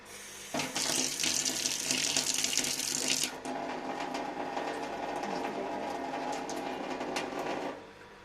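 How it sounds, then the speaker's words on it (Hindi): Water runs into a container of salt, a loud steady hiss and gush for about three seconds, then a softer continuous trickle before it fades out. No voices. "इसके अंदर थोड़ा पानी डालना है।"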